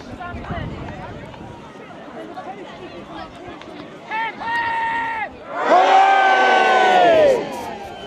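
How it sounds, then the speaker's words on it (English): An excited crowd at the Burghead Clavie burning, a fire festival held to welcome the new year, breaks into loud whoops and sustained cheers that swell to a strong shout near the end over a background of scattered voices. "We got a very enthusiastic crowd here."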